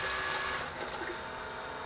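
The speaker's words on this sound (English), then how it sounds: "That just pumps less water." A sea water pump turned down to pump slowly, its water just trickling: a faint, steady mechanical hum with thin whining tones and a soft watery wash underneath.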